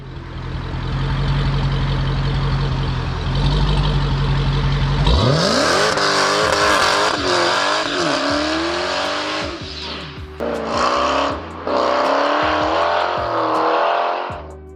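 A 2020 Dodge Challenger SRT Hellcat XR engine starts up and revs hard, its loud valve-controlled AEC performance exhaust roaring and rising and falling in pitch, with brief gaps between bursts of throttle.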